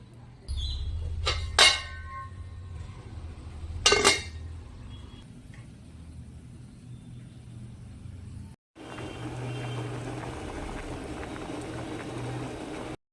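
A pot of dal bubbles on the stove, two sharp metallic clanks ringing out as a lid is set and adjusted, followed by a steady low simmer and hiss.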